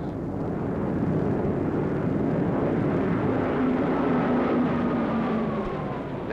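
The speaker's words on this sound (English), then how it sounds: "These are Japanese planes." Japanese military planes fly over in a wartime Navy film, a loud sustained propeller-engine drone that swells and holds, with a slowly falling engine tone as the aircraft pass.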